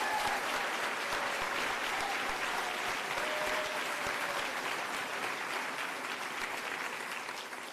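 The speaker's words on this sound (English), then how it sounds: "give a round of applause" A town hall audience applauds steadily for about eight seconds, a dense, even wash of clapping heard from within the room that fades slightly at the end.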